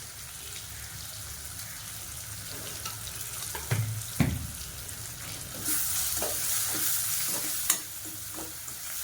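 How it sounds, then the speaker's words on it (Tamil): Onion and tomato sauté with salt in a pan, a constant sizzle with occasional stirring knocks, growing into a louder, brighter hiss partway through. "இந்த வெங்காயம் தக்காளி வந்து நல்லா வதங்கணும்"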